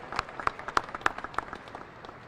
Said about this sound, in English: let's give Ms. Hunt a round of applause for her most passionate plea to us as adults